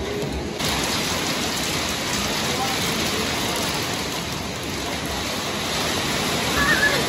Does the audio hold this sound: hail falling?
yes